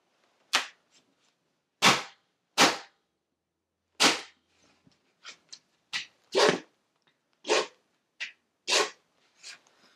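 Impact durability test on dryback 2.5 mm, 20 mil LVT flooring: about a dozen sharp, loud impacts and cracks at irregular intervals, close, with near silence between them.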